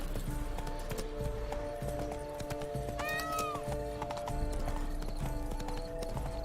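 Horse hooves clip-clop steadily in The Witcher 3: Blood and Wine, a close, regular trotting rhythm with a short neigh partway through, set against low ambient game sound.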